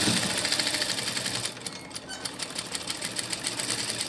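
A sewing machine stitches curves in doll fabric, a rapid even clatter of the needle that slows briefly partway through before running fast again, close and alone.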